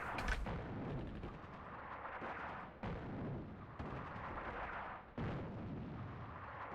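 Artillery fire in the North Africa war game Attack at Dawn: a few heavy booming blasts spaced a second or two apart, each with a rolling tail, over continuous battlefield rumble.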